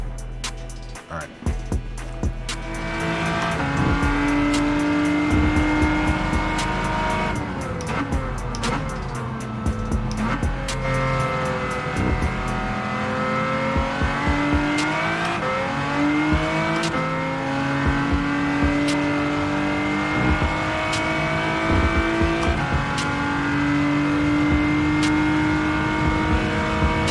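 A race car engine revs continuously in Gran Turismo 7, with rising and falling gear-change pitch sweeps and occasional tire squeal, loud and sustained throughout with faint background music.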